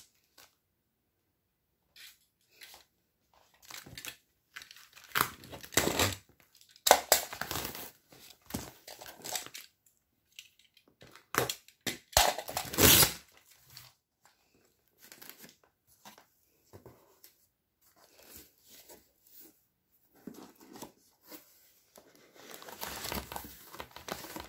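Packaging crinkles and rustles while a box of hoya plants is unboxed: close, irregular bursts of plastic and paper crackle with quiet gaps between them, and no talking.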